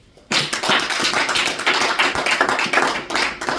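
A church congregation bursts into sustained clapping in praise of the Lord, dense, loud and close, starting suddenly and continuing unbroken.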